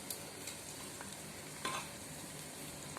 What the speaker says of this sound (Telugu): ఇప్పుడు ఈ మసాలా దినుసులు ఉన్నాయి కదా, వీటన్నింటినీ కూడా వేసి కొంచెం ఫ్రై చేద్దాం.